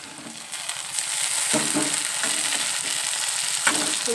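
Vegetables and tomato fry in hot oil for upma, a steady crackling sizzle with occasional stirring scrapes and clinks of a spoon against the pan, close and fairly loud, with no speech.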